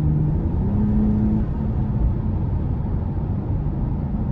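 A 2021 Toyota Camry TRD with a 3.5 V6 and 8-speed gearbox, heard while driving as a loud, steady, deep exhaust drone and rumble, alone and without talk.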